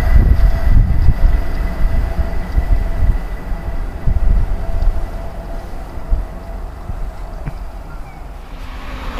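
An LNER Azuma class 801 train passes a footpath level crossing towards London King's Cross, a loud rumbling roar of wheels on rail that is strongest at the start and gradually fades as it moves away, with no voices.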